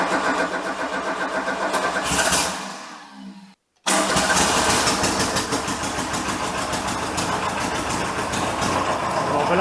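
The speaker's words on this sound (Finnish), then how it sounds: "Ehkutetaan vähän tuossa ja katsotaan miten se nyt starttaa." A DIY mini loader's engine cranks and runs roughly, drops out briefly into near silence, then catches again and keeps up a loud, close, steady running clatter.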